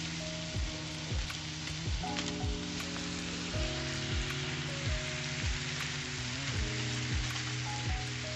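Fish and shrimp frying in a pan, a dense continuous sizzle and crackle heard close up, with repeated swooping tones that pass through it and no talking.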